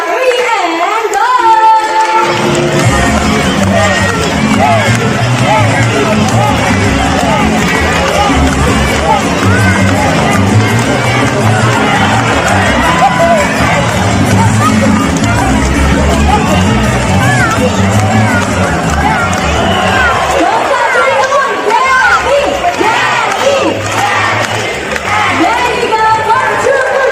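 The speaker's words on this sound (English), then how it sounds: "Now Gabby supporters, you can cheer louder" Supporters cheering a bird fruit-carrying race, a loud continuous crowd clamour of shouting and yelling with babbling voices throughout, easing off near the end.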